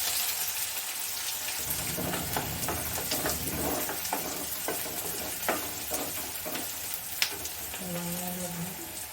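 Chopped onions dropped into hot oil in a frying pan for a white rajma curry, sizzling loudly with a steady hiss and repeated scraping stirs, a brief tonal clink near the end.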